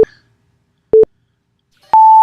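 Three electronic timer beeps sound on their own with long silent gaps between them. The first two are short and low, and the last is higher and held, starting a quick-fire round of a comics talk show.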